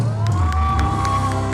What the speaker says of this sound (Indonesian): Tepuk tangan untuk cabang Pariaman.